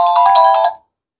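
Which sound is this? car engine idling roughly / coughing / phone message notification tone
phone message notification tone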